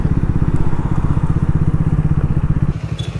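A Triumph Speed 400 motorcycle engine runs steadily nearby, a loud, even, rapid thumping idle that holds for about three seconds with no voices.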